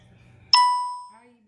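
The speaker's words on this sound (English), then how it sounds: "So if y'all hear dinging or whatever, just, it's the phone." A phone notification gives a single bright ding, a clean chime that rings out and fades over about half a second, close and loud against near silence.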